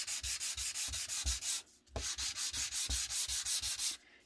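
Sanding across a papercraft surface in a card-making setup, a close, rhythmic scraping of about a dozen quick strokes in two bursts separated by a brief pause, with no voices.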